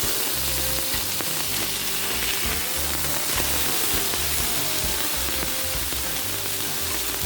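Sliced fish pan-seared Jamaican style in a frying pan, giving a loud, continuous close-up sizzle and crackle that stays steady throughout, with no voices.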